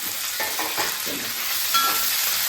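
Capsicum and onion sauté in a pan for homemade gobi manchurian, with a bright, continuous sizzle under soft, repeated stirring scrapes close by.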